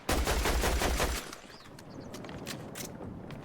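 Rapid video game gunfire bursts, loud and close for the first second, then a quieter stretch with scattered faint shots and game effects, no talking.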